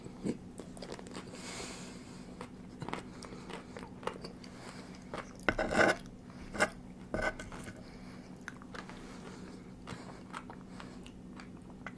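Crunchy bites and chewing of a crisp baked brookie, with several sharp crackling bites close to the mic amid quieter mouth sounds.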